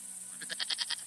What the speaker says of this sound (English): I'd never got on with goats.